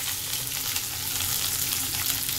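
Chopped onion frying in a pan over a medium flame while a potol and prawn curry is being made, giving a loud, continuous close-up sizzle with faint stirring and no voices.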